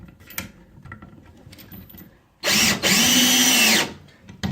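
A cordless power drill drives long screws into a wooden bunk bed frame, with two loud whirring bursts, one brief and one sustained for over a second, after a quiet stretch of faint handling noise.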